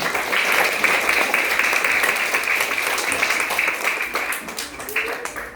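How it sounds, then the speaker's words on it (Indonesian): Steady applause from a crowd at a school Halal Bi Halal gathering at a primary school, dense clapping sustained for about five seconds at even loudness. "Tepuk tangan dulu untuk kita semua."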